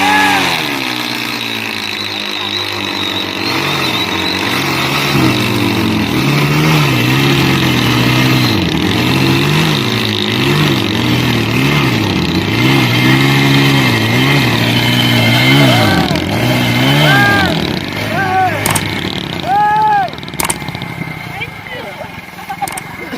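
A Dhoom and a Road Prince motorcycle rev against each other in a tug-of-war contest, loud wavering engine notes rising and falling repeatedly beneath constant crowd chatter and commentary.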